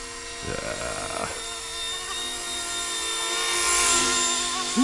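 A small RC Era MD500 Army model helicopter flies outdoors in wind, its high whining rotor and motor tone steady and rising slightly as it nears, with a brief voice near the start.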